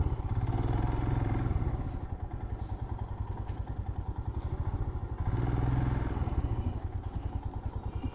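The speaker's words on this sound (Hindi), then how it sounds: "लगाते हैं अपनी बाइक को पार्किंग में।" A motorcycle engine idles and revs steadily up close as the bike is pulled into a hotel parking spot after a Kolkata to Gangtok ride, with a throbbing rhythm that swells twice and a few light clatters.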